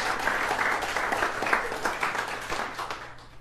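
An audience claps at a college comedy show, a dense, steady round of applause that tails off slightly near the end, with no voices over it.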